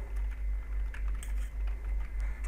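Someone types a search word on a computer keyboard, a short run of close, uneven key clicks over a steady low hum, with no one speaking.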